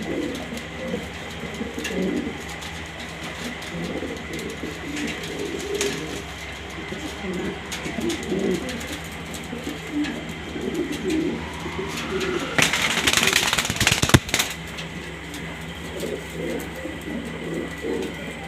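Pigeons, including grizzle-coloured and black pairs kept for exhibition and sale, coo in a steady low murmur throughout. A brief loud rush of broadband noise passes through near the end.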